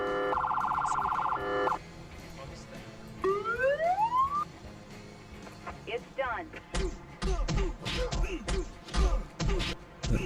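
In the Emergency 4 game with a Boston mod, a police car alarm and siren sound in short bursts with a rising wail, followed by a person talking over the game audio.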